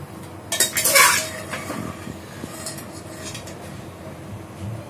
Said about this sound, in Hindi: अभी हम कुकर खोल के देख लेते हैं